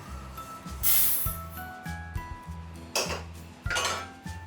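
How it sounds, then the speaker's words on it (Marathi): Chana dal roasts dry in a pan, giving bursts of rattling and hissing as it is tossed. Metallic clinks of the pan and spoon come over a low steady hum. "अशीच हरभरा डाळ पण भाजून घ्यायची"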